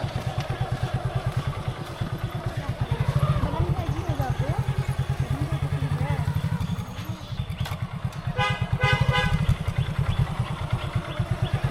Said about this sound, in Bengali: বাইকে উঠি নাকি জামশেদ